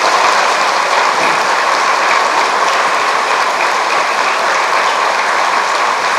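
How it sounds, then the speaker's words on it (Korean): Welcoming applause from a church congregation at a Unification Church gathering, a steady dense wash of many hands clapping that holds at the same level throughout, with no voices over it. "환영한 마음과 같은 박수로 환영하십니다."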